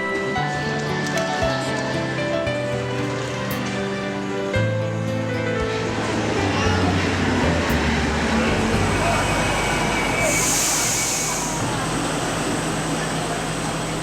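An orange Milan tram rumbles and clatters along its rails with squealing tones and a rising rush of noise, some voices faintly in the background.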